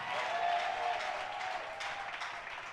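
A church congregation applauds God during a French-language service: continuous, fairly distant clapping held at an even level throughout.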